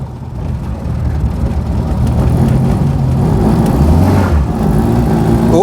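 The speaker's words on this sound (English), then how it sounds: "Oh, bit of wheel spin, bit of wheel spin." A 1999 Reliant Robin three-wheeler spins a wheel under power, a loud, rough engine and road roar with a brief rising whine near the end.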